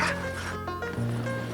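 A sled dog team on a snowy mountain trail, with a dog giving a short bark or yip amid whining and tonal harness or vehicle noise, close and brief.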